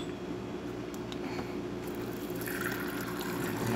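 A Gaggia Titanium espresso machine dispenses water in a steady, close trickle, its hiss rising slightly near the end.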